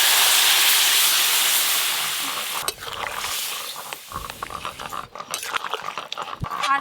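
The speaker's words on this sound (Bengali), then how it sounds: "এবার ছকে দেব সেদ্ধ করে রাখা সবজি।" Boiled vegetables tipped into a pan of cooked spices for a fish curry, a steady loud hiss at first, then broken by stirring scrapes and crackling sizzle bursts close by.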